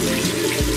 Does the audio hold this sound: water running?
yes